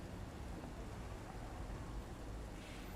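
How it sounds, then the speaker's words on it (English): Rain falls steadily around a train cab as a dense, even hiss of drops that holds constant and close, with no talk. "Why is it just started raining?"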